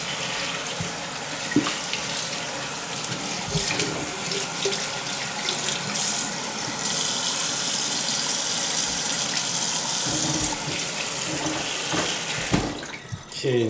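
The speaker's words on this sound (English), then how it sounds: "now we have washed our turkey off" Tap water runs steadily into a sink while a whole turkey is washed, a close, continuous splashing gush with brief handling noises before it cuts off near the end.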